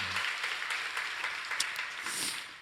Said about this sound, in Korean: 우리 오복기 집사님을 위해서 큰 박수로 한번 격려하고